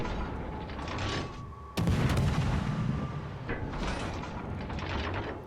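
Warship main battery guns firing in a World of Warships Legends naval battle against the New Orleans, a sharp loud boom followed by rumbling shell flight and continuous dense battle noise, with no speech.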